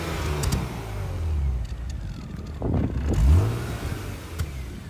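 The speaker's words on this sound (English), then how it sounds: "Can you please throw us some revs? Listen to this thing." A BMW 328i E36 race car's engine revving: a steady rumbling idle that swells into a throaty rev, then settles back down.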